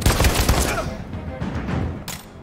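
A gunshot fired during a tense standoff in Detroit: Become Human, with a burst of sharp reports up front, then a reverberant tail and a later crack, with game ambience beneath.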